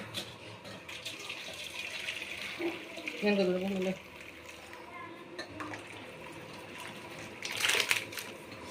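Cooked chicken liver being rinsed in water, with steady close splashing and sloshing of water in a vessel, plus brief clinks; a voice talks faintly in the background.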